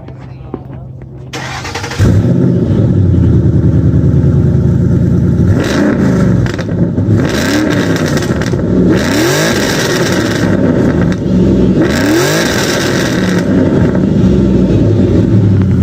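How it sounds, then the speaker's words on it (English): A car engine fitted with new long-tube headers revs loudly at a car meet, starting with a sudden roar and then rising and falling through repeated throttle blips, close and continuous, with people talking faintly underneath. "Ask John to rev his engine?"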